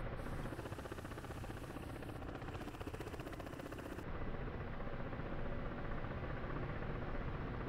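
Ka-50 coaxial-rotor helicopter holding a steady autopilot hover in the DCS flight simulator, a constant dense rotor and turbine roar that carries on evenly throughout, with no voices.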